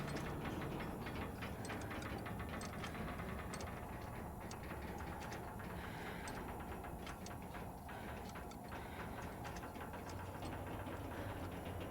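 In a video game, a train cart rumbles through a cold, creepy tunnel: a low, steady mechanical drone with scattered clicking and rattling, faint and continuous, with no voices.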